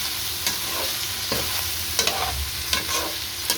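Biryani ingredients with chicken, vegetables and soy sauce stirred in a pan: a steady sizzle with several sharp spoon scrapes and knocks at irregular intervals, close and clear, with no talking.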